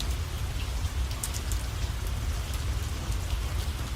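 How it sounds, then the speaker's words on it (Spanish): Steady rain falls on the cobblestone streets of Paris on a grey autumn day, a constant, even hiss of drops that stays the same loudness throughout with no voices. "La lluvia golpea los adoquines con un rumor constante"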